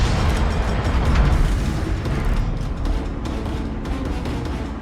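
A Soviet tier-eight battleship Borodino in World of Warships fires its main-gun salvo, a loud, heavy booming roar that rolls on as a continuous low rumble for several seconds, with no voices.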